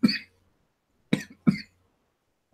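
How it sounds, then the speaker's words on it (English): Someone coughs four times, short sharp bursts spaced unevenly with silence between, close to the microphone and otherwise quiet. "I got that cough too."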